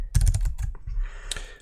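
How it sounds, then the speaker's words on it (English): Quick, irregular typing on a computer keyboard, close and fairly loud, with clustered keystrokes and short pauses and no talk. "Let's hope my keyboard doesn't die again."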